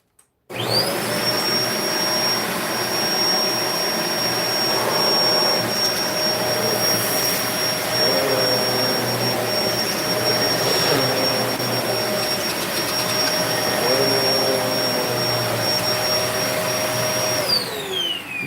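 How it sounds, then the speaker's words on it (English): A Hoover Spin Scrub vacuum cleaner, just repaired, starts up and runs loudly and steadily with a high whine for about seventeen seconds, then cuts off, with no talking. "Now, let me vacuum this up. Let's test this."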